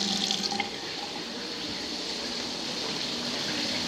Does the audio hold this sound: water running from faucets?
yes